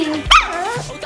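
A new puppy gives a short, high yip or bark close by, heard amid a steady background hum.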